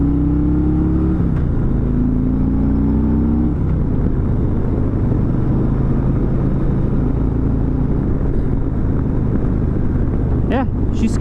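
A 2020 Harley-Davidson Road Glide Special rumbles along on the road, a loud steady engine drone with shifting pitch and heavy wind buffeting, ridden throughout.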